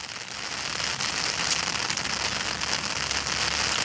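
Steady rain pours outdoors beside a natural fishing spot, a dense, even hiss of drops striking surfaces throughout, fairly loud and close, with no voices.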